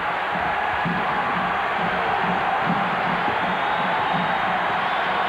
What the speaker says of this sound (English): Crowd trying to get in it now and help Iowa State.